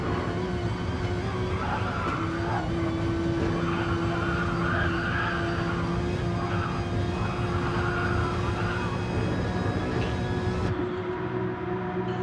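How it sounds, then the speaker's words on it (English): A mid-engine race car in a racing video game, its engine droning loudly and steadily with a tone that jumps up and holds as it bounces off the rev limiter, with tyre noise underneath, cutting off abruptly near the end. "he bounces off the limiter a little bit there on the exit of the second"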